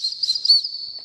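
Dog recall whistle blown in three quick pips, a sharp, high, pure tone heard close and loud, the final pip held slightly longer.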